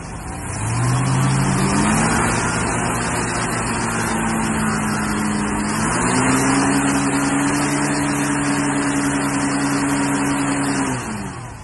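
Six-cylinder Ford Mustang engine on the road, a loud, steady in-car drone that climbs in pitch as it accelerates, then holds a constant cruising hum before easing off at the end.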